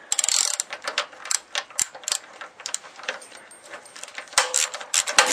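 Ratchet socket wrench with a spark plug socket loosening the spark plug on a lawn mower that won't start, giving a run of quick, close clicking bursts in an irregular rhythm, fairly loud and with no talk.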